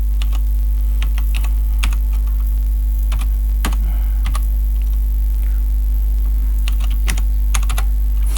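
Close, steady typing on a computer keyboard while item entries go into an Excel sheet, with clustered key clicks over a constant low mains hum and no talking.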